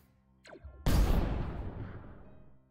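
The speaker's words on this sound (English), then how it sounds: "Those explosions are loud even on low volume." A quick descending whoosh leads into a sudden loud video game explosion, from the game Bionic Dues, that booms and then decays over about two seconds, heard close and alone.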